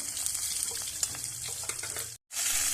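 Cauliflower tossed into a hot pan fries with a steady, loud broadband sizzle that runs almost unbroken, with faint stirring clicks. It drops out completely for a split second near the end, then the sizzle resumes at full strength.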